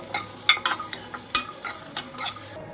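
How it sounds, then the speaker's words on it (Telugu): Grated coconut frying in hot oil in a pan, a soft sizzle broken by a handful of quick, close stirring scrapes and taps from a spoon over a few seconds. "ఇప్పుడు ఇదే ఆయిల్లోకి కొబ్బరి వేసేసుకుంటున్నాను. రెండు నిమిషాల పాటు కొబ్బరి వేయించుకోవాలి."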